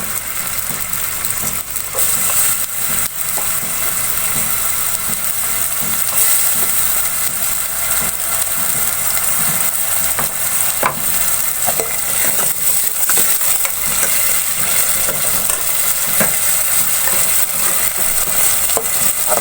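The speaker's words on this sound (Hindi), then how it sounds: "अब प्याज को मैं थोड़ी देर फ्राई कर लूंगी।" Finely chopped onions frying in a pan for dhaba-style daal, a loud steady sizzle and hiss with occasional stirring scrapes, close and continuous with no talking.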